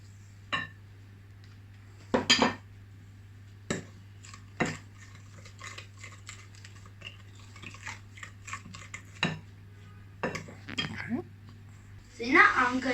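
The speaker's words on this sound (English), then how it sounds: "So now I'm going to beat the eggs together with an egg" Eggs being beaten with sugar in a bowl for marbled brownies, intermittent clinks and scraping knocks against the bowl in irregular bursts, with a steady background hum and a person talking.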